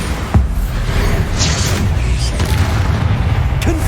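The Bombarda explosion spell in Hogwarts Legacy: a loud, sustained, rumbling boom with a few sharper cracks and bursts on top, rolling on steadily for several seconds.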